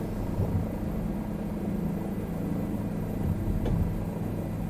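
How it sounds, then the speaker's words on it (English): A helicopter in Microsoft Flight Simulator, flying over safari scenery, gives a steady low rotor and engine drone that fills the whole stretch with no voices. "Let's get back into the chopper."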